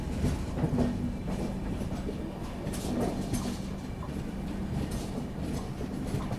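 A Lido Intercity train runs along the track, giving a steady, loud rolling rumble with faint wheel clatter throughout and no voices.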